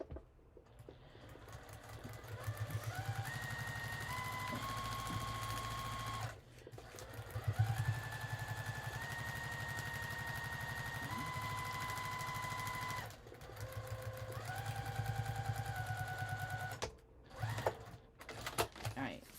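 A sewing machine stitches a paper-pieced quilt block in several long humming runs, the motor whirring steadily with short pauses between seams and a faint voice at times underneath.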